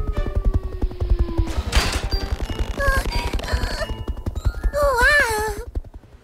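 A cartoon tow truck drops from the sky in a rapid barrage of loud crashing and clattering impacts, followed by a warbling, wobbling tone, all close and busy with some voices mixed in.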